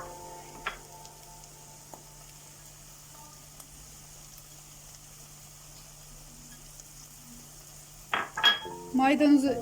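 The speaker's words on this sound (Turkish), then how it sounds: "şöyle bir iki karıştıralım güzelce karıştırsın" Chopped parsley is stirred into a sautéed spiced mixture for Hakkari-style sour köfte, with a spoon scraping and clinking against the pot in a brief scrape early on and a run of clattering strokes at the end.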